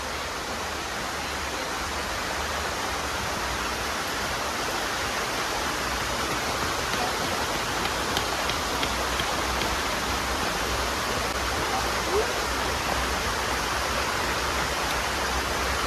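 River water tumbling over the falls at Dunn's River in Ocho Rios, Jamaica, a steady, broad rushing roar that stays even and continuous throughout, with no voices over it.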